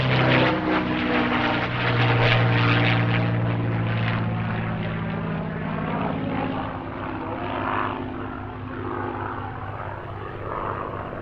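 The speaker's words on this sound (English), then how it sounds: "the airshow debut of Spitfire Mk9 Sasha in the hands of its owner, Peter Teichman." Spitfire Mk9 propeller fighter flying at the Midlands Air Festival airshow, a loud steady piston-engine drone with a deep harmonic hum that swells early then slowly eases as the aircraft passes, heard alone without talk.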